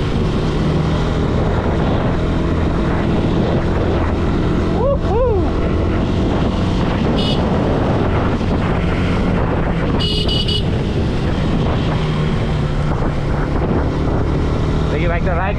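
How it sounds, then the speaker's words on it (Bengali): A modified Yamaha R15 V2 motorcycle being ridden, its engine droning loud and constant close to the microphone with wind rush over it, the pitch rising and falling briefly as the rider revs through gears. "দেখি বাইকটা রাইড করে দেখি।"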